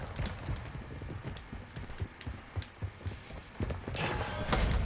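Footsteps in Call of Duty Warzone on Ashika Island tap in an irregular series of soft thuds mixed with clanking mechanisms, all at moderate volume.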